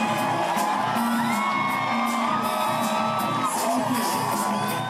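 An overflow crowd at a college cheers for President Clinton with sustained whoops, yells and shouting, a dense, loud roar of many voices that never lets up.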